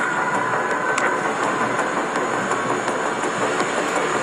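A train rolls along steadily in the flight-combat game Ace Combat 7, a loud, continuous rumbling roar with faint rhythmic clicks running throughout, no talking over it.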